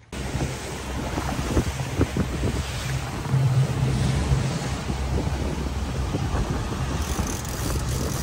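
Boat engine droning over wind buffeting and the rush of waves offshore near Cozumel, loud and continuous throughout.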